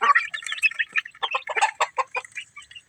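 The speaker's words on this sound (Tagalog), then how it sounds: "Ibibideo ko nga pala yung mga sisiw natin." Chicks peep busily alongside a mother hen's soft clucks in a backyard, a close, continuous chorus of high chirps over three seconds.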